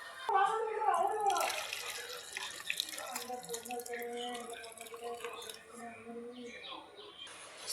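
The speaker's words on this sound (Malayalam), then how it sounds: "അരപ്പ് തിളച്ചു. നമുക്കിത് ഫിഷിനകത്തോട്ട് ഒഴിക്കാം." Boiled masala paste is poured over fish during home cooking. It makes a wet, running, splashing sound, like liquid from a tap, and a voice speaks over it.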